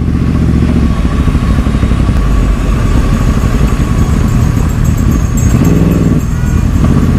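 A Porsche drives past on a busy road, its engine a steady loud rumble close by, with other traffic around and a second swell of engine noise near the end.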